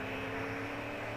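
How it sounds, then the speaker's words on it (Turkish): Airplane engine drone from a Fortnite match, a steady low hum with constant broadband noise holding evenly through the short moment, no speech over it. "Çok sinir ediyor şu uçak artık. Adamlar alıyor uçakta tarıyor."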